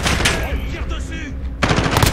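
Sharp bursts of automatic gunfire in Modern Warfare, a rapid volley, a brief lull, then another close, loud burst, with a voice faintly present.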